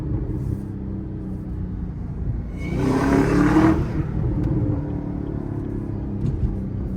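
A sports car engine, a ZL1 or Hellcat, rises in a brief throaty rev on a downshift while driving in Chicago, swelling loud for about a second over a steady low engine rumble.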